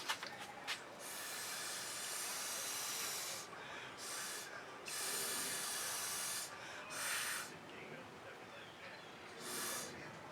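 Fluid acrylic paint is blown through a straw across a seascape painting, giving soft, close breathy hisses in several bursts separated by short pauses, each puff rising and fading.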